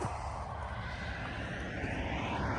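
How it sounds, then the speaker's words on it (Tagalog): A drone flying outdoors by Lake Moana on New Zealand's West Coast, a continuous whirring rotor drone with broadband wind-like hiss, fairly close and steady throughout, with no talk. "Tapos lang natin magpalipad ng drone."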